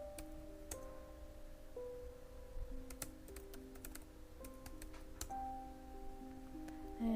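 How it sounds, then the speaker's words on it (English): Quiet, close clicking of a computer keyboard as a Windows command is typed, giving light irregular keystrokes with a few sharper taps against a faint hum. "you're just going to type in ipconfig/all."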